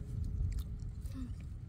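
Someone chews and bites through a whole wild fruit with a dragon-fruit-like aroma, its base bitten off first, outdoors on a coastal foraging trip; close, wet mastication and soft crunches over a low background rumble.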